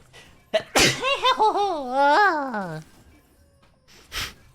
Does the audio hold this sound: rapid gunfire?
no